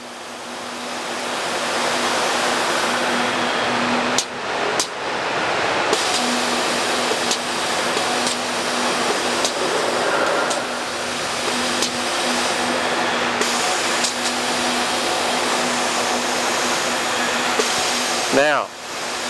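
A Strongarm manipulator arm in a flusher area lowers to horizontal on its actuator, giving a loud steady whir over a constant mechanical hum, with brief dropouts and a sharp click near the end.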